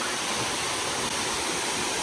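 Rushing water of a Hawaiian waterfall in the rain, a dense, even roar that fills the space without any break.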